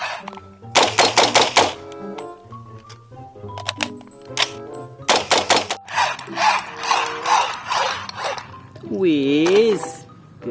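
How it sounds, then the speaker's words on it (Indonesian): A toy M3 gun fires electronic shooting sounds: bursts of rapid, harsh, rattling clicks in several runs with short gaps, ending in a warbling siren-like tone, loud and close. "Keluarlah tembakan M3."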